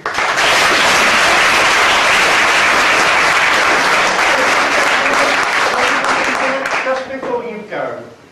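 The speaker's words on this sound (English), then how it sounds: "A round of applause." A theatre audience at a staged play breaks into loud, sustained applause that rolls on steadily, then thins out and fades toward the end.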